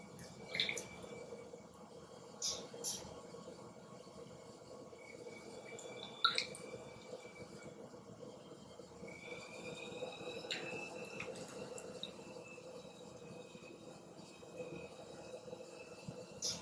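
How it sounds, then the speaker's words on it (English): Wet sponge pressed against soft clay on a spinning pottery wheel, giving a faint, steady watery swish with a few small squelches and drips over a quiet motor hum. "I'm going to use my sponge to pull some of that clay in a little bit"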